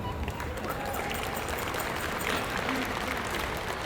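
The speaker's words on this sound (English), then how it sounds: "clap if you like it." Audience clapping at a university pow wow in Tempe, Arizona: dense, steady applause from a crowd lasting several seconds, heard at a moderate distance over faint background chatter and outdoor ambience.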